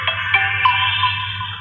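Artificial sound effect played by the Vivo Nex phone when its pop-up camera rises, a short bright synthetic whirring tone with a few chiming accents, close and clear for under two seconds.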